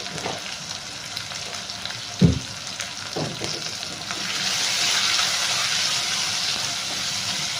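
Seasoning sizzles and fries steadily in a hot pan for buttermilk rasam, with a couple of brief clinks of stirring and the sizzle swelling slightly louder toward the end.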